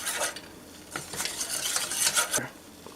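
Creamed peas being stirred in a pan on the stove, with a steady run of spoon scrapes and soft clinks against the metal and a light sizzle underneath. No one speaks.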